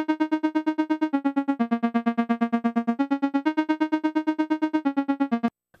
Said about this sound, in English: which is I introduce this new arp at 16th notes,